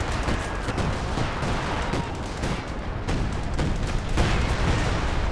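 Assault artillery barrage in Company of Heroes 2, a dense run of booming shell impacts and crackling gunfire that rolls on steadily without a break, loud and close, with no talk over it.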